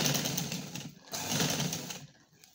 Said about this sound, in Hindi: इस तरीके से हम अपने कपड़े को मशीन में सेट करेंगे और इसकी हम सिलाई लगाएंगे